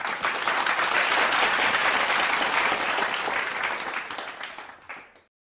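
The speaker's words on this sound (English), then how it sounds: "Let's give him a round of applause" A crowd at a morning devotion gathering applauds a speaker, with dense, loud, sustained clapping that fades over about five seconds.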